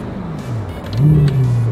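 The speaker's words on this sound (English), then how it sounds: "The V8 in this car sounds better than the V10." A V8 supercar engine rumbles low and then climbs into a brief, throaty rev, close and fairly loud.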